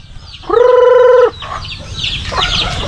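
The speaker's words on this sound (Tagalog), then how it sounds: "Itong mga manok at pabo naman ay ating pakainin." A loud rooster crow rings out for under a second on a farm, followed by softer clucking of chickens and turkeys and scattered fowl chatter in the background.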